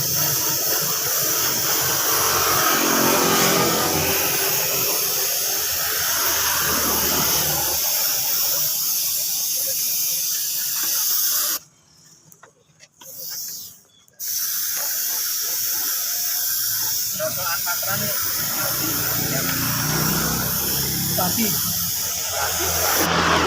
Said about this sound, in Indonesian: ini setelah kering kita semprotir seperti ini.